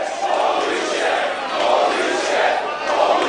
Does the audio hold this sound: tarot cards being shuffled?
no